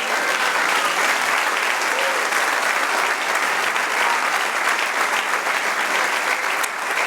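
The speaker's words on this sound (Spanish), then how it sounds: "Dale un aplauso al Señor." A church congregation applauds the Lord during a Sunday morning service, a loud, dense and steady wave of clapping that holds without a break throughout, with faint voices mixed in.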